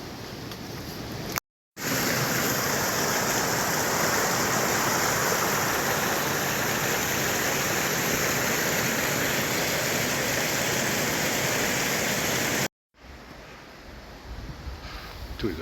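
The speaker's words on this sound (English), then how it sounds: "it sounds like there's plenty of water going down" River water rushing steadily and loudly in a broad, constant wash close by, running for about eleven seconds between brief cuts, with quieter flow before and after.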